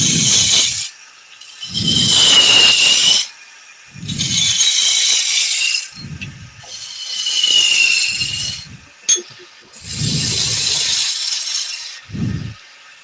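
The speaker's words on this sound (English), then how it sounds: "I'll just roughly shape it with a roughing gouge first" A roughing gouge cuts spinning wood on a lathe, making loud, close bursts of rough scraping and hissing in repeated passes of a second or two each, with quiet gaps between them and no speech.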